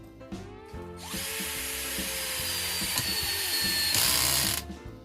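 A Ronix 8018 cordless drill drives a 2-inch screw crosswise through wood, giving a close, loud motor whine with gritty ratcheting clicks that builds for about four seconds and then stops.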